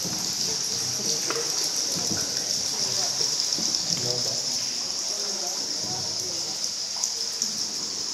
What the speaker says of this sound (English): Oh God, it's raining outside.